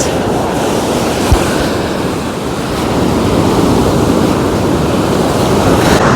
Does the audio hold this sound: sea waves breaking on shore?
yes